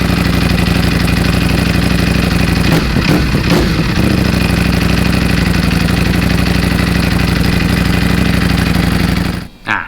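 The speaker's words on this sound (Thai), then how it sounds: "ส่วนเสียง V4 ก็จะประมาณนี้" A Yamaha V4 motorcycle engine runs steadily through its exhaust, a loud, continuous low rumble at idle with a brief blip of revs partway through before cutting off abruptly at the end.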